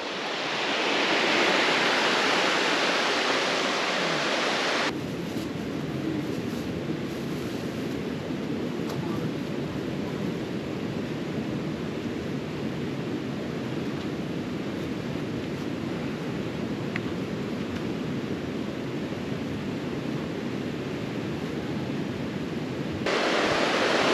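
Loud, continuous rush of fast-flowing water in West Fork Horsehead Creek (South Branch) nearby, a broad steady roar that holds throughout without voices.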